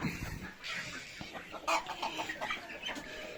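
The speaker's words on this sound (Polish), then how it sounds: "No widać mokre kurki." Wet hens cluck in short, overlapping bursts in the rain amid a busy outdoor background, with scattered bird chatter and no talking.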